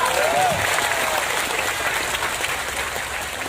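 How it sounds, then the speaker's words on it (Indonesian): Applause for NU Taiwan at a lively Islamic religious lecture in Taiwan, a dense, steady wash of clapping from a large audience that holds evenly for the whole stretch, with a brief whistle-like tone near the start. "Keren, tepuk tangan untuk NU Taiwan"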